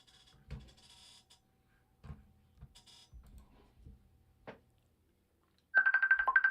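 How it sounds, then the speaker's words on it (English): A phone ringtone starts suddenly near the end, loud and steady, after quieter scattered thumps and brief bursts of background noise. "I got Jake Piller on the phone"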